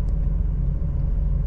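A car interior on the road, with a steady low engine rumble and tire drone continuing evenly and fairly loud, and no voices.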